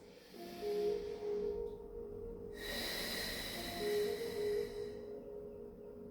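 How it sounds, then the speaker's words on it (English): Slow, deep breathing through the nose during a yoga hip stretch, soft airy inhales and exhales heard close in a calm, quiet room. "Three more breaths."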